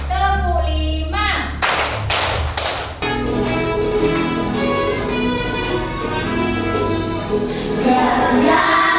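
A classroom group finishes a counted clapping routine with a short flurry of loud hand claps, then a teacher keeps talking with a steady tone underneath.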